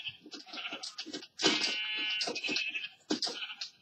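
Sheep in the video game Minecraft bleat several times in quick succession, clear and close with short wavering cries and no voices.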